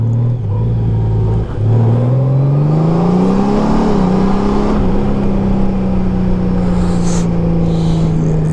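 2018 Honda Goldwing touring motorcycle engine on the move at low speed along a narrow road, a smooth steady drone that rises in pitch as it accelerates, then settles to an even hum, heard close without talk.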